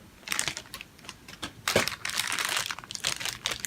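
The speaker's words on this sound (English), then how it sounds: "So first let's take them out of their plastic." Fitbit Charge 2 bands being pulled out of their plastic packaging, with close, busy crinkling and rustling of plastic throughout.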